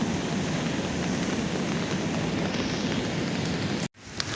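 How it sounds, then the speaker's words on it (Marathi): Heavy rain pours steadily in a dense, loud hiss with no voices, cutting off abruptly near the end before a brief faint rustle. "आता एवढा जोरात पाऊस चालू आहे मस्त"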